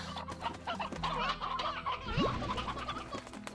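A steady chorus of clucking hens in the video game Slime Rancher fills the space, with repeated close, busy calls and one rising squawk partway through.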